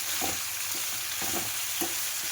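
Four green chillies frying and sizzling in hot oil in a pan while a mushroom paneer masala is prepared, with a steady hiss broken by several stirring scrapes.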